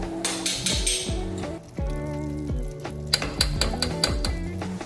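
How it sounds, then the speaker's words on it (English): A whisk scrapes and clinks steadily against a metal pot while a roux of fat and flour for beer cheese is stirred, with a faint sizzle underneath and no talking. "we're gonna whisk it together till it forms a clumpy, until a lot of the clumps are kind of mixed out"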